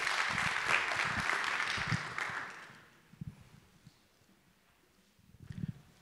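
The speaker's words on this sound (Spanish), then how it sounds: "Por favor, otro aplauso para el doctor" Audience applause at a medical talk on treating osteoarthritis pain with orthobiologics, a dense broadband clapping for about three seconds that fades out, then sparse scattered claps and low murmur follow.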